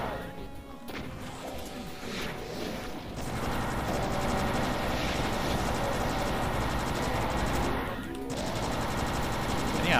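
Weapon fire in the first-person shooter Doom, a plasma gun on a random community level, with dense rapid bursts and clattering impacts running loudly and continuously under a busy game mix.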